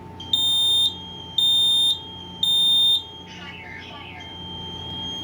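A smoke alarm, model 10014 VSA, sounds in test mode with three loud, shrill, evenly spaced beeps about a second apart, followed by a brief quieter electronic chirp and a low background hum.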